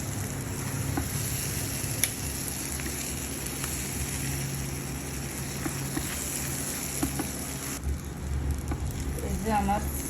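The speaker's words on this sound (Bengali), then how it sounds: "এখন আর একটু ভাজতে নিব, আর একটু তেলের মধ্যে ভাজি" Rice and spices frying in hot oil in a pan, a steady close sizzle and crackle running throughout, with occasional stirring scrapes.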